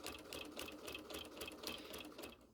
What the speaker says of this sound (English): I am going to go ahead and back stitch.